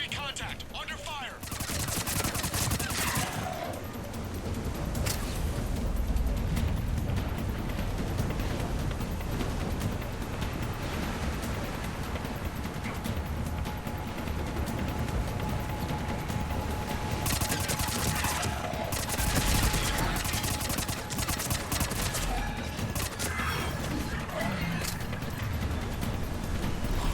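Continuous gunfire in a firefight in the video game Mass Effect 3, loud and sustained throughout with dense overlapping shots, explosions and rumbling game noise.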